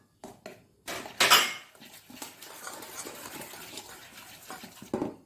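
Ragi flour being mixed in a bowl for murukku dough, giving a series of close scraping and clinking knocks against the bowl, with one louder burst early on and scattered softer rubbing after.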